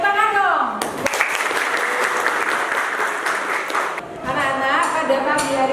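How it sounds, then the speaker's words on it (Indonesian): High school students clapping in a classroom, a burst of dense applause lasting several seconds with a teacher's voice heard before and after it. "Kalian hebat sekali, tepuk tangan dong."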